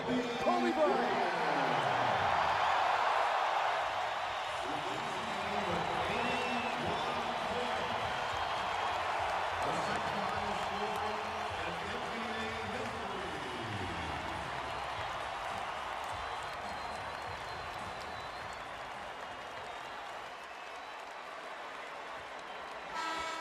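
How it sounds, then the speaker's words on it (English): Basketball arena crowd cheering for Kobe Bryant during his 81-point Lakers vs Raptors game in 2006, a loud, sustained roar with horn-like tones, gradually easing, with a commentator talking over it. "listen to this crowd for number 8, Kobe Bryant"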